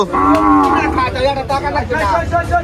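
Cattle at the Tepakhola cattle market in Faridpur mooing loudly and repeatedly, several long lowing calls overlapping one another nearby, with busy background noise and no clear talk.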